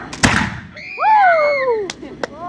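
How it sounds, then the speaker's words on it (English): A damp musket fires with one sharp, close bang near the start. Excited whoops and voices follow right after, rising and sliding over a quiet background with a few faint pops. "One of the problems with this musket is when it gets damp, it doesn't always go off. So let's give it another try. Fire!"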